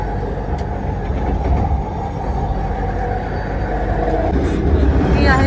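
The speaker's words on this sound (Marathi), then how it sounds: "मलेशिया मधल्या मेट्रो मधला पहिला प्रवास आहे" A metro train ride in Malaysia, heard from inside the carriage as a steady, loud rumble with rail noise that swells slightly toward the end.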